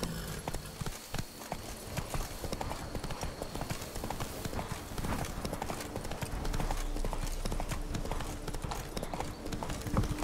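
Hooves of a galloping horse from The Witcher 3 video game keep up a fast, dense clip-clop close by, with a faint voice talking underneath.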